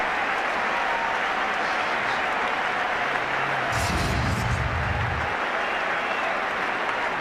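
Cricket crowd applauding after a diving catch ends an innings at a 2005 India vs Sri Lanka one-day international; steady broad applause fills the whole stretch, with a louder swell in the middle.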